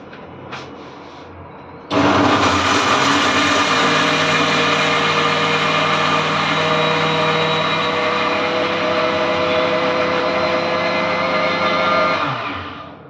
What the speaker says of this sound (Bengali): সেই নারকোলটাকে ওই মিক্সচারে গ্রাইন্ড করলাম একটু